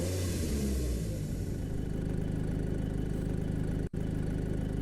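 Car engine in Shinrai turning over and settling into a steady idle, a low continuous rumble heard close, briefly cut by a short dropout near the end.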